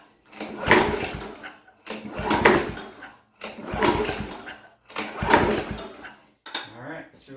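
A lawnmower engine is cranked by pull start in four long, even strokes and a final short one, each a rough mechanical churn that dies away without the motor catching.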